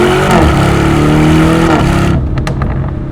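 A Lamborghini Urus S SUV on the move, its engine droning loud and close with rising and falling pitch as it accelerates, then easing off near the end, with no talk.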